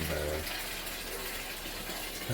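Steady broadband rush of water pouring to fill a pond filter system, continuous and fairly close, with a brief low rumble at the very start.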